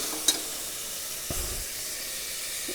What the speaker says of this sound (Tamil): தக்காளி போட்டு நல்லா வதக்கியாச்சு